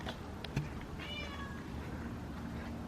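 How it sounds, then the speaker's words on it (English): A stray cat meows a few times at a distance from a parked spot, its cries faint over steady outdoor background noise. "As soon as we pulled up here, this cat, just the whole time. Meow, meow, meow."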